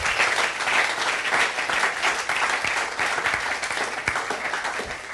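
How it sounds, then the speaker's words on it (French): Steady applause from a church congregation fills the space, dense and continuous throughout with no break. "Applaudis pour Jésus"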